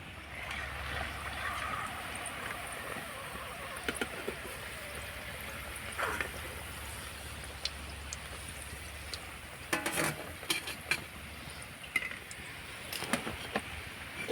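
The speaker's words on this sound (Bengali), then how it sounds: "আর একইভাবে করে ভেজে নেব" Dahlia flower pitha frying in hot oil, a soft steady sizzle and bubbling with occasional sharp clinks of a utensil against the pan, fairly quiet and without talk.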